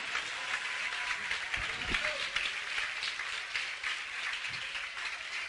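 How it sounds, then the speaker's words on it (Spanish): Church congregation clapping for the Lord during a sermon, a faint, distant, steady patter of applause with a few low thuds. "Dale un aplauso al Señor"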